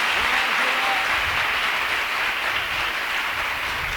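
A church congregation claps together at a golden jubilee celebration, producing dense, steady applause that fills the hall loudly throughout with faint voices mixed underneath.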